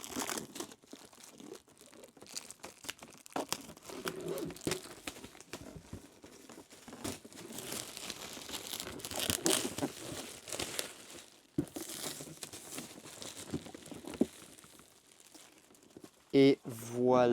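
Plastic wrap being torn and crinkled off the box of a 400% Mega Space Molly Stranger Things art toy, with close, steady crackling and rustling throughout and a few sharper rips near the end.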